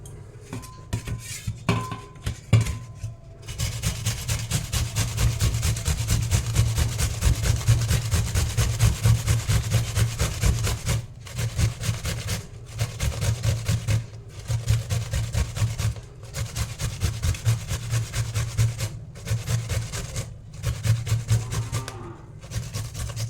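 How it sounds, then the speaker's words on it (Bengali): Peeled cucumbers grated on a metal grater in a home kitchen, a steady close rasping scrape repeating in rhythmic strokes with a few brief pauses. "এখন এই গ্রেটারটা দিয়ে আমি গ্রেট করে নেব।"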